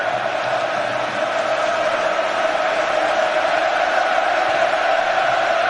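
A packed stadium crowd at the Euro 2008 England versus Croatia football match roars in a steady, distant wash of cheering and chanting that holds without a break.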